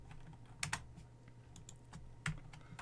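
Scattered keystrokes and a couple of sharper taps on a computer keyboard, faint and close over a steady low hum, with no speech.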